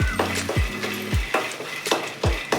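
Dried red chillies and Byadgi chillies fry in a pan for capsicum palya, with a steady sizzle under several bright, regular scrapes and clinks of a spatula against the metal, close by and with no talking.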